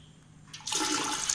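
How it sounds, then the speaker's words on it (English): Rice and water suddenly rush through an opened solenoid valve into the boiling vessel of an automated rice cooker. A quiet mechanical hum gives way to a loud, splashing gush of pouring water. "the rice along with the water falls into the boiling unit"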